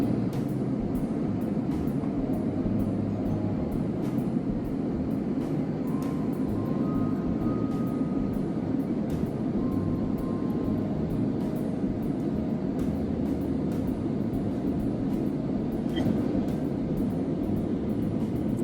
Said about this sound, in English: That was a very smooth, very quick takeoff within 25 seconds.